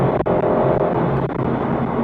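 A 2017 BMW 430i M-Sport Cabriolet with a 2-litre twin-turbo engine pulls hard up through its rev range, a steady, close, droning engine roar with a brief dip at a gear change.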